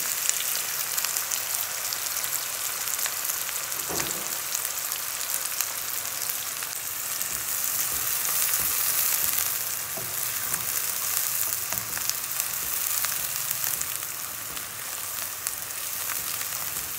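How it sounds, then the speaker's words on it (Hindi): Seven or eight chopped onions frying in hot oil in a pan give a steady, close, rain-like sizzle that runs unbroken for the whole stretch, with a few soft stirring clicks and no voices. "ये ऑयल हमारा गर्म हो गया है और ये 7 से 8 प्याज हैं जो मैंने चॉप किए हुए हैं और मैं इसको फ्राई करने लगी हूँ।"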